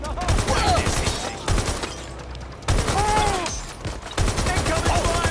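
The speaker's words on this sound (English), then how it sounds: "Shots fired!" Dense gunfire exchange in Watch Dogs: Legion at a construction site, with rapid bursts and single shots crackling in repeated waves over several seconds, loud and close, shouted voices mixed in.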